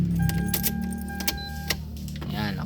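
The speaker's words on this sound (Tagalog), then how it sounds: "Saksak natin yung susi." A key goes into the ignition of a Toyota Avanza with jangling and metallic clicks, close and fairly loud, over a steady low hum inside the car.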